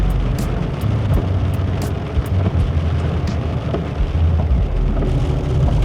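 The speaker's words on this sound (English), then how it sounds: "it is really raining." Rain falls steadily in Laganas, Zante, in winter, a constant hiss of drops with occasional louder spatters and a low rumble of passing traffic underneath.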